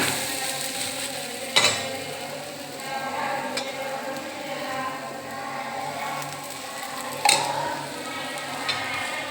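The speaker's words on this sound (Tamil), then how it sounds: "எப்பவும் போல் நம்ம தோசையை திருப்பி போடுவோம்" An instant dosa sizzles steadily on a hot pan over medium heat after being flipped, with a couple of sharp scraping clanks from the spatula rising above the even frying hiss.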